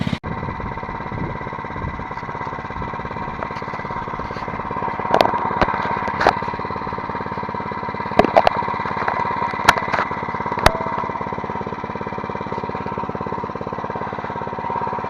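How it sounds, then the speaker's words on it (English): A small mini bike engine runs continuously with a steady buzzing drone and a few sharp clicks and knocks, close by and fairly loud throughout. "we're gonna go ride the mini bike"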